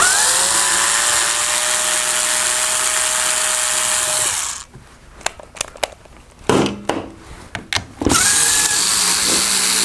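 A power nut driver works nuts off a Midway Pac-Man Cabaret mini arcade cabinet during restoration: a steady whirring motor runs for about four seconds, then short bursts of spinning, clicks and rattles, then the whir resumes at the end.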